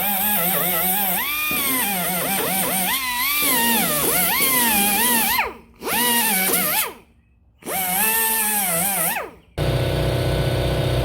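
Power drill working on the fender of a 1994–2002 Dodge Ram pickup, its motor whining up and down in pitch through several bursts, with brief pauses between runs, loud and close.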